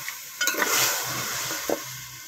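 Beef trotters frying in spices in a pan, a close steady sizzle with a few brief stirring scrapes.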